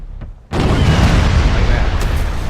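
A ship's left cannons fire in Furious Seas, a naval video game: after a brief quiet moment, a sudden loud blast erupts into a dense booming rumble that carries on to the end.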